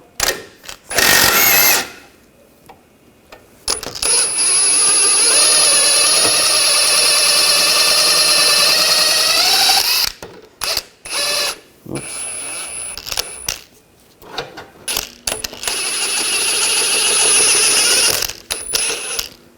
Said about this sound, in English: Using a 24mm socket, 18mm wrench. Take this nut and bolt out.